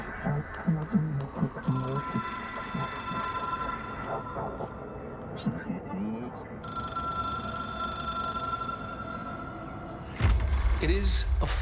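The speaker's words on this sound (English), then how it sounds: "It is a phone." A telephone bell rings in repeated tonal bursts under and between speech, fairly faint, before a loud low rumble cuts in at the end.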